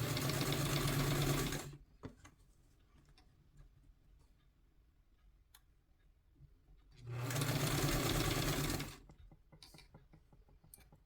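Sewing machine stitching a two piece collar in a tutorial, with two loud steady runs of motor whir and needle clatter, the first about two seconds and the second about two seconds, separated by quiet handling clicks.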